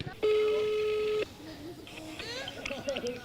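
A telephone ringback tone while calling a hotline, one steady electronic beep about a second long, followed by faint background chatter and children's voices.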